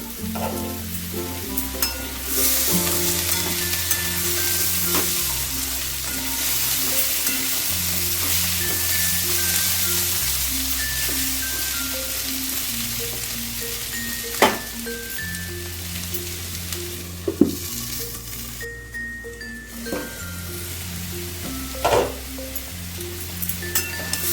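Pumpkin fries in a pan over a medium-high gas flame with a continuous close sizzle and occasional stirring clatters, while background music with a steady bass line plays underneath throughout.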